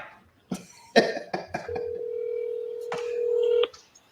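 Telephone number dialed on a phone: several sharp clicks and taps, then a long steady electronic tone that cuts off abruptly, with a cough and faint background sounds in a quiet room.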